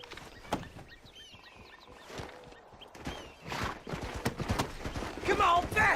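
Horse hooves clip-clop in a Red Dead Redemption game scene, rapid irregular thuds that swell louder toward the end, mixed with a whinny and wildlife sounds behind them.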